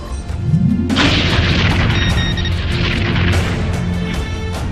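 A loud, close blast from Star Trek disruptor fire erupts with a rising whoosh, then a sustained roaring explosion with crackling debris that holds heavy and dense throughout, no voices.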